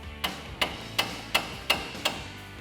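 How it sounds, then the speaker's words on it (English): A mallet or hammer knocks a tie rod end loose on a 2007-2018 Chevrolet Silverado front suspension, six sharp metallic strikes evenly spaced and close by, each with a short ringing decay. "grab a mallet or hammer and knock this loose."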